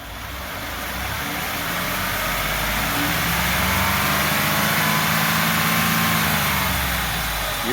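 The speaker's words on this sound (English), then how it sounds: "give it a good deep rev and then let off" A 2018 Ford F150 with the 2.7 EcoBoost engine and a K&N air intake revs up steadily, its engine note climbing and holding loud and close with no pauses.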